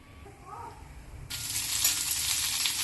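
Split cashew nuts and sliced onion hit hot oil in a pan and start sautéing, a quiet start that bursts into steady, close sizzling and frying for the rest of the moment.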